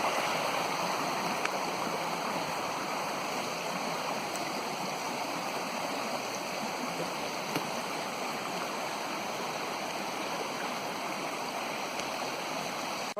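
A mountain stream flows steadily over rocks, with the water gathered into one channel near a farm road; continuous close rushing and gurgling without pause or voices.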